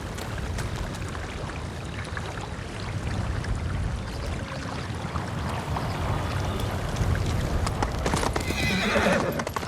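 Horse hooves clip-clop at a steady gallop with repeated neighs and whinnies in Ghost of Tsushima, loud and close throughout, with splashy, watery texture near the end.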